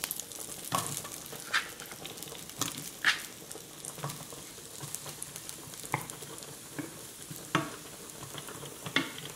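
Mushrooms fry in a pan for a crème fraîche pasta sauce, a soft steady sizzle at low volume broken by repeated sharp pops, crackles and scrapes of stirring.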